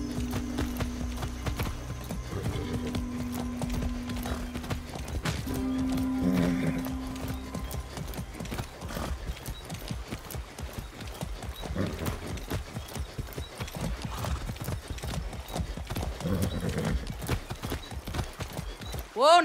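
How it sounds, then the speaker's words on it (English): Horse hooves clip-clop in a steady trotting rhythm through the Far Cry 6 video game, a long run of close, even hoofbeats over low ambient game sound without speech. "That's a good horse."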